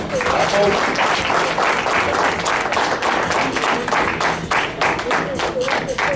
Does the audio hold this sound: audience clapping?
yes